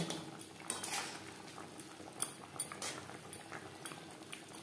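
A spoon stirs ghee and garam masala into stuffed pointed gourd in gravy for a vegetarian potoler dorma, making faint clinks and scrapes against the pot over a soft bubbling simmer, with no speech.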